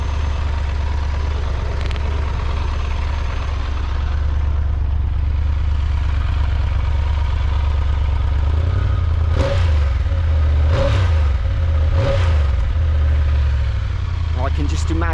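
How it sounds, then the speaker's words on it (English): A 2025 Triumph Tiger Rally Explorer triple-cylinder exhaust idles with a steady low rumble, then three short sharp revs blip up and fall back near the end, loud and close. "Let's have a listen to the exhaust."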